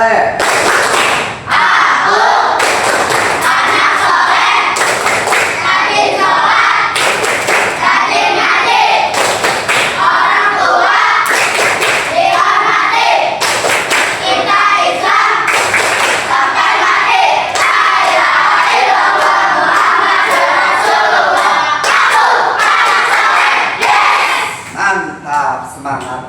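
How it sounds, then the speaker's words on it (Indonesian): Children at an Islamic class chanting the 'tepuk anak soleh' clapping rhyme, loud rhythmic claps and stamps driving a steady beat under energetic group voices, continuous for the whole stretch and fading at the end. "Tepuk anak soleh."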